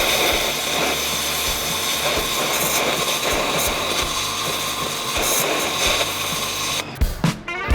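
An ARXP BOX3 high-pressure washer sprays with a loud, continuous hissing roar at close range, a strong jet blasting steadily with slight shifts near the end.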